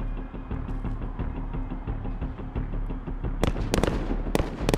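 Rapid gunfire in a Call of Duty Modern Warfare embassy mission as enemies shoot out the lights, a dense run of shots over a low rumble that turns into louder, sharper cracks near the end.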